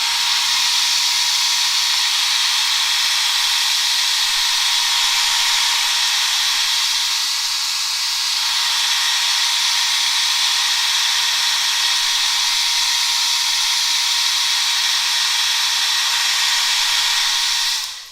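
A hair dryer blows close by, drying a watercolor painting. Its loud, steady airy roar barely changes for about eighteen seconds, with one brief dip in the middle.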